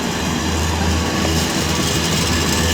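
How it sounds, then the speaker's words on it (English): A passenger train, the Avanti West Coast service to London Euston, arriving at Birmingham International on the West Coast Main Line, with a steady low rumble and rolling wheel noise throughout, close by. "12 something Avanti West Coast service to London Euston"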